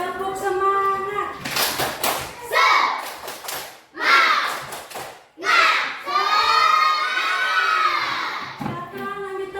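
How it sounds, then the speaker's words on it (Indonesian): A classroom of children does a rhythmic group clapping chant called 'tepuk semangat', with loud shouted voices and bursts of claps that come in quick sets separated by short pauses. "Kita bikin dulu. Tepuk semangat."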